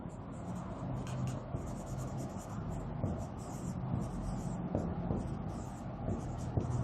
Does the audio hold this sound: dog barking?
no